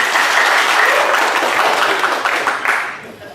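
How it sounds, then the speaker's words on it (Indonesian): Audience applause at an installation ceremony for the South Sumatra provincial wrestling association in Indonesia, loud dense clapping that fades out over the last second. "Terima kasih tepuk tangan."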